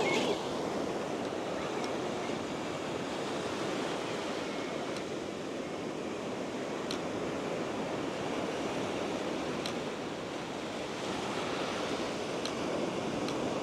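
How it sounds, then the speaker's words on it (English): Ocean waves break and surge continuously along a shoreline where a small RC fishing surfer boat is being tested in rough water, a steady, loud wash of surf with wind noise and no talking. "I think these waves are a little bit bigger than it's rated for"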